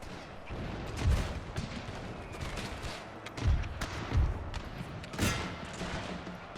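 Musket volleys and artillery fire in a Total War Pike and Shot battle between Vlad and Ottoman forces, a steady crackle of distant gunfire broken by several heavy booming thuds.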